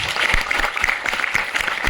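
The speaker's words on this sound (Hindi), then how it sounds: "एक बार पहले इनके लिए जोरदार तालियां हो जाए।" An audience at a film festival event in Varanasi applauds steadily, with dense overlapping claps at a moderate level throughout.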